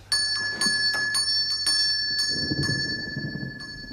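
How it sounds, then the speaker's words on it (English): A bright bell rings repeatedly in a steady rhythm, its tones lingering and overlapping, with a low rumble building underneath toward the end. "who's ringing the bell?"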